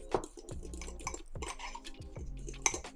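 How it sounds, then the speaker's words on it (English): A fork stirs a drink in a mug, scraping and clinking against the sides in quick repeated strokes, close and fairly clear, with a brighter clink at the start and another near the end, no voices. "I am going to use a fork so that it can all mix together well."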